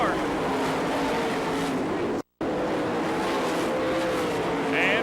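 Sprint-style race cars roar around a dirt oval at an All Star Circuit of Champions event in Florence, Kentucky, a dense, continuous engine drone with a brief dropout and rising whine near the end.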